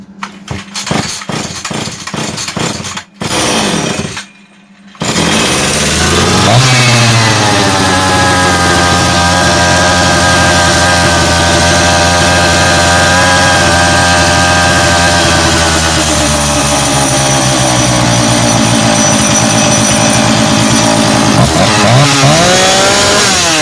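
Husqvarna 340 chainsaw with a badly adjusted carburetor: several quick pull-cord rips and sputters, a short pause, then the engine catches and runs loud and steady at close range, its revs dipping and rising slightly.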